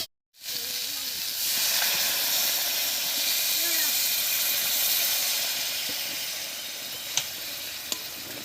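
A little water goes into a pan of borali fish frying with tomatoes, setting off a loud, sustained hissing sizzle of steam after a brief silent start, with a couple of sharp utensil taps near the end.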